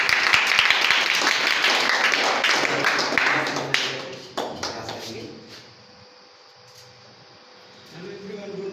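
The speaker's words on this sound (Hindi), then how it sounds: "आप लोग क्लैपिंग करेंगे" An audience at a Genius Academy gathering claps for about four seconds, a dense, lively burst that tapers off, followed by a quiet stretch and then a voice beginning to speak.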